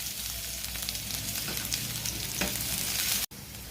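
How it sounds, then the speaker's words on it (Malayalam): Sliced onions sizzle in hot coconut oil while cooking a mutton curry, a steady dense frying crackle up close with occasional stirring, then a brief cut near the end. "അപ്പോൾ നമുക്ക് ആ വെളിച്ചെണ്ണയിൽ തന്നെ കുറച്ച് സവോള ഇടാക്കാം"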